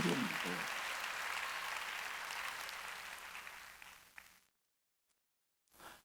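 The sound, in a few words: church congregation applause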